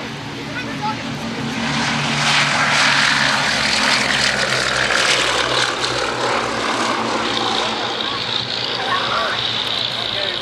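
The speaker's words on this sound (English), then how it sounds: "Here goes the Bristol Blenheim 1F." Bristol Blenheim Mk.1F, a restored historic twin-engine aircraft, roaring past at an airshow at East Kirkby with steady loud propeller engine drone that swells and holds, crowd and commentary faintly under it.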